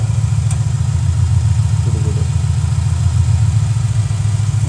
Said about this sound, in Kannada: ಈ ಇಂಜಿನ್ ಕೇಳಿಸ್ಕೊ